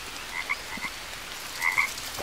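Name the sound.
toad croaking in the video game Green Hell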